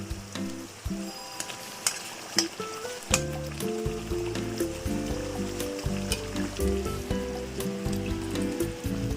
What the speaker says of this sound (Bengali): আগে মাছগুলো দিয়ে দিই তারপরে সামান্য একটুখানি জল দিয়ে মাছটা হতে দেব